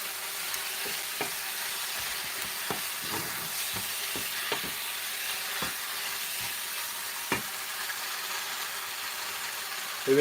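Chicken, garlic and shrimp stir-fry, Filipino style, gives a steady close sizzle in the pan, with scattered soft clicks and scrapes of stirring over the frying hiss.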